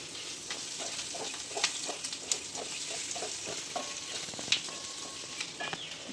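Onions sauté in a pan for country chicken curry, a quiet continuous sizzle with a run of rhythmic spatula scrapes and a few sharper taps, heard up close without talk.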